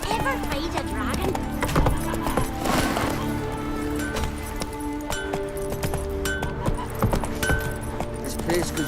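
Horse hooves clip-clop at a gallop in The Witcher 3, steady and fairly close, over a busy, layered game soundscape with music and ambient effects.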